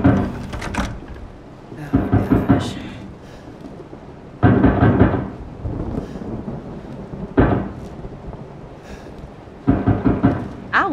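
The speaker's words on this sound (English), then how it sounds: "I don't think I want to go towards the door that's knocking." Door knocking in the video game Resident Evil 7, heard as heavy, booming thuds in separate bursts spread across about eleven seconds, with rumbling ambience between them.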